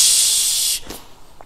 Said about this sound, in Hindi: कुकर की सीटी बजी